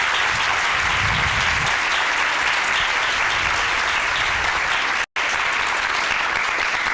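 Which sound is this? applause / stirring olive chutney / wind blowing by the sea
applause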